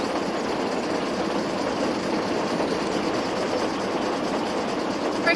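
A runaway train in a Sodor railway video game rolls along the rails with a continuous dense rumble and faint rhythmic clatter, steady and moderately loud with no talking.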